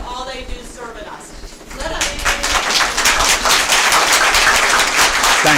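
An audience at a public library board of directors meeting breaks into applause, and steady clapping swells and continues to the end after a short stretch of quieter room sound.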